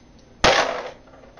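A single sharp crack of troop gunfire in a war video game, loud and close with a short fading tail, otherwise quiet.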